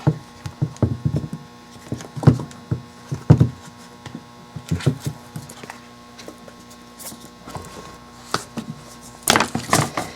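Flexible resin gingerbread man being peeled out of its mold, with irregular crackling, snapping and peeling sounds in uneven bursts, close up over a faint steady background hum.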